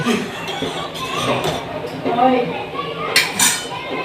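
A utensil stirs mint leaves into a pot, giving scraping sounds and light metallic clinks against the sides, with a voice murmuring underneath.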